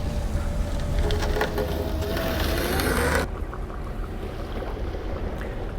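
An Iguana Yachts amphibious boat on tracks rolls into the water with a steady rushing, churning roar that suddenly drops to a quieter, duller wash about halfway through.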